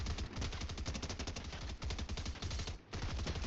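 Rapid SMG gunfire from the video game Fortnite rattles in near-continuous automatic bursts, loud and close, with one brief pause near the end.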